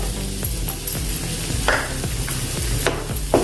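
A semolina mixture being roasted in a pan gives a steady loud sizzle, with a spatula scraping and stirring in quick repeated strokes up close.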